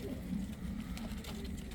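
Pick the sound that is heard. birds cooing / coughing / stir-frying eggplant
birds cooing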